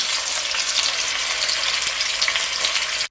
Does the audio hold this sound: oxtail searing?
yes